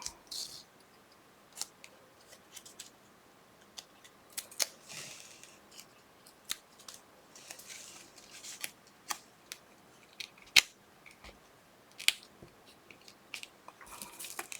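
Scissors snip through decorative paper while a Christmas folio is being crafted, a series of quiet, crisp cuts spaced irregularly over a faint, hushed room background with no talking.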